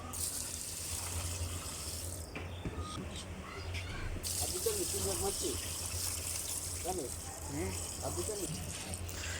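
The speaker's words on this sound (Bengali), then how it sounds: "মাংসগুলো ভালো করে কাটা হয়ে গেলে এবার আমরা ফানি দিয়ে এগুলো ধুইতে হবে" Cut chicken meat being washed in water for a Bangladeshi wedding-style chicken fry, with steady running and splashing water throughout, close by and moderately loud, while a person talks over it.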